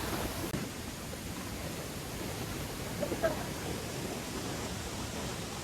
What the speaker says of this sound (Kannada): ವಾಟರ್ ಫಾಲ್ ಇದೆ, ಸೇಮ್ ಮಿಲ್ಕ್ ತರ ಕಾಣ್ತಿದೆ ವಾಟರ್ ನೋಡಿ